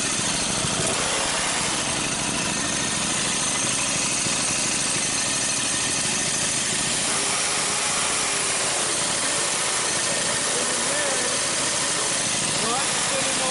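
A vehicle engine runs steadily close by with a rough, continuous drone while it is shifted into first gear, with a person talking over it.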